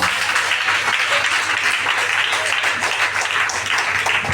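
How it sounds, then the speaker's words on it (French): A church audience claps for the women during a sermon, a continuous wash of crowd applause at steady loudness with a low hum underneath. "Acclamons les femmes."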